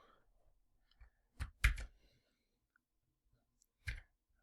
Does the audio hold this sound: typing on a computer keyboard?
yes